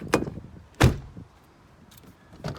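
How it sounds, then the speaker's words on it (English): Door of a Toyota LandCruiser 76 Series fitted with sound deadening shuts with solid, heavy thuds: a sharper knock, then a louder dull slam, followed by fainter knocks, close by and without talk. "I found that it's made shutting the doors a lot more solid."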